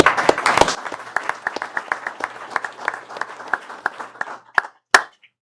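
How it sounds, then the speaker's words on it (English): A small group in a school board meeting room gives a brief round of applause, the clapping starting strong and thinning out to a few scattered final claps. "so I'm sure we could give her a round of applause."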